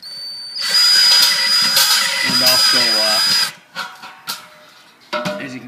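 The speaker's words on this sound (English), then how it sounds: "take your drill on the inside and get it in there" Hand drill running inside the holes of a stainless brewery kettle during a brewery build, a loud steady whine for a few seconds that stops, followed by short bursts of talk.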